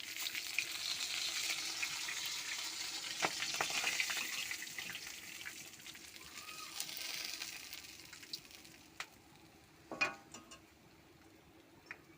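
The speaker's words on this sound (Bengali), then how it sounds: "কড়াই অল্প সরষের তেল দিয়ে আলু ভাজা বসে নিয়েছিলাম" Potatoes fry in a little mustard oil in a wok, giving a steady broadband sizzle that swells and eases over time, with a few sharp clinks or stirring scrapes near the end.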